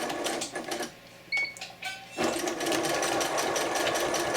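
A sewing machine stitches a chenille scarf with a fast mechanical whir, briefly pausing with a few clicks for a back stitch before running steadily again, close and loud.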